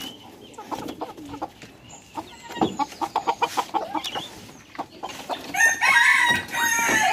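Free-range country chickens on a poultry farm cluck repeatedly through the clip, with a rooster crowing loudly toward the end, close by and busy with overlapping calls.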